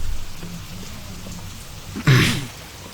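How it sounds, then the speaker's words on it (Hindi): Steady rain falls throughout, a continuous hiss of drops on surfaces, with a brief louder burst of sound near the end. "फिर से बारिश शुरू हो गई।"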